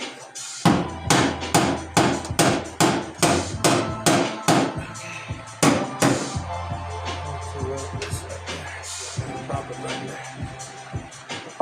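A hammer strikes the metal body of a 1977 Datsun B210 during welding repairs on the driver side, about a dozen loud, evenly spaced ringing blows followed by scattered lighter taps and clatter, with a voice briefly audible.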